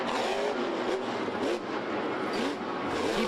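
Scooby-Doo monster truck engine at a Monster Jam combination course, roaring continuously and loud with rising and falling revs across a busy arena.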